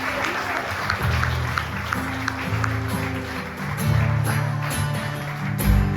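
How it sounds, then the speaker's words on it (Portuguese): A church congregation claps steadily together over a worship band's sustained organ-like tones and drums, the applause continuous and moderately close. "Você pode aplaudir ao Senhor."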